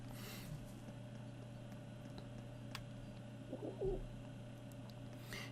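Pigeons cooing in the video game Trails into Reverie, a brief soft coo over quiet ambient game background hum, with a faint tone or two elsewhere.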